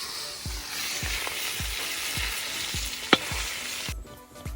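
Fish pitha frying in a pan gives a dense, steady sizzle, with regular soft low thumps roughly every half second and one sharp clink near the end; no one speaks.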